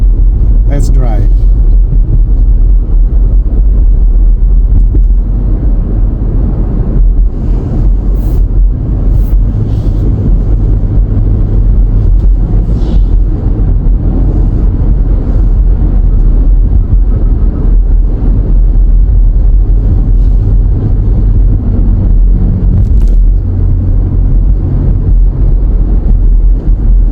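Car driving along winter roads in the USA, a heavy continuous low rumble with some wind buffeting throughout, and a few brief knocks and clicks over the drone.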